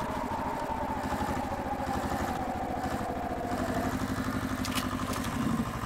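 A heavy video game tractor engine chugs steadily at idle with a rough, rattling rhythm, loud and constant throughout.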